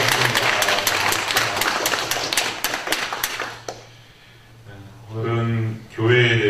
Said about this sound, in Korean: 우리 자축하는 의미에서 한번 박수 한번 칩시다